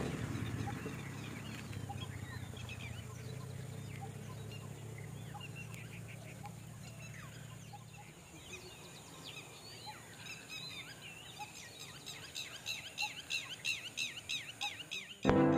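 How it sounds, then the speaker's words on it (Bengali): Assorted birds call from around Norahara Dam below a hill in Jhalda, Purulia, faint and distant at first, then a run of quick repeated calls grows clearer near the end. "আর চারিদিক থেকে নানান রকম পাখির ডাক শোনা যাচ্ছে।"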